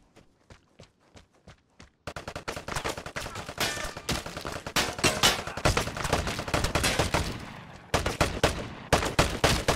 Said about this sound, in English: Getting shot from two directions, eh?